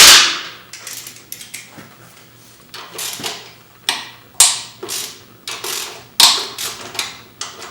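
Ratchet wrench loosening 12mm and 14mm bolts on an XR 650L motorcycle top end, a series of close clicking ratchet bursts with short pauses between strokes.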